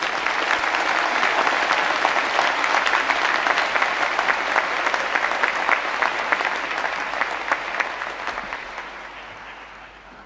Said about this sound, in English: Please join me in a round of applause to all our graduates.